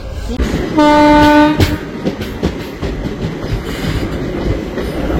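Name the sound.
train arriving at station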